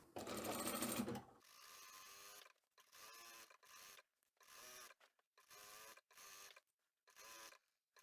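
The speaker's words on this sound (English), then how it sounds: "sew all of that in place" A sewing machine stitching seams on a denim drawstring laundry bag runs in short bursts of rapid mechanical whirring, separated by brief pauses, close and fairly quiet.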